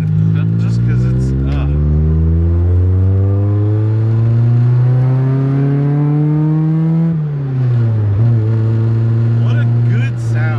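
A Toyota AE86 Levin's engine revs and pulls up through the gears, a loud, smooth, rising drone heard from inside the car, dropping briefly at a shift before climbing again, with voices talking over it.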